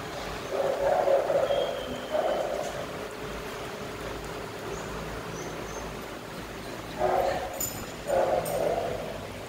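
Several dogs bark and yip in short bursts, with a lull in between and a steady background hum throughout.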